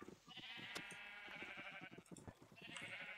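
Sheep bleat in the video game Minecraft, several quavering bleats in quick succession, close and somewhat faint, with no talking over them.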